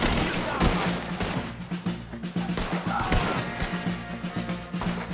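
Rapid gunfire rattles nonstop through a chaotic battle in the video game Red Dead Redemption, loud bursts and crackling shots layered with booms, over game music and shouted voices.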